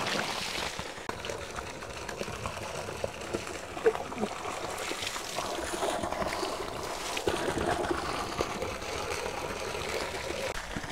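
Water gushes from a motor pump outlet down into a well, a constant rushing, splashing flow that carries on throughout with small irregular bursts.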